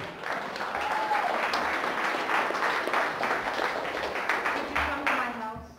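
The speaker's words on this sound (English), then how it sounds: "Give him a big round of applause." Steady applause from a seminar audience fills the whole stretch, a dense wash of many hands clapping with scattered whoops, fairly loud and continuous.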